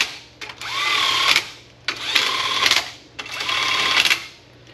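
A power tool runs Miata differential bolts all the way down in three bursts of whirring, each about a second long and separated by short pauses, close and fairly loud.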